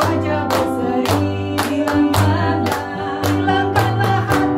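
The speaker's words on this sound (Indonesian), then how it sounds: "Tepuk tangan wajah berseri." Sharp hand claps land in a steady beat, roughly every half second, keeping time with a sung Indonesian Sunday school hymn at an online children's worship service, the song loud over a sustained musical backing.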